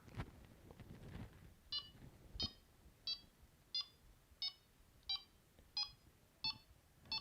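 A Txi-D fishing bite alarm with its beep speed turned up beeps in a steady, evenly spaced series of about nine bright electronic tones, with faint rustling beforehand.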